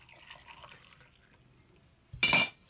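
Cooked sugar-and-salt syrup is poured over green beans packed in a jar, a brief loud liquid splash and glassy clatter near the end after quiet kitchen background.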